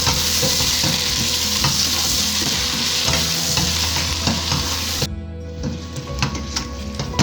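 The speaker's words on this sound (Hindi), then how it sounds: "अब मैंने इसके अंदर चिकन डाल दिया है। चिकन को थोड़ा सा मैं पकाऊंगी ताकि इसका कलर चेंज हो जाए।" Chicken sizzles loudly in a hot pan, with steady frying crackle and occasional stirring scrapes, close by and without talk.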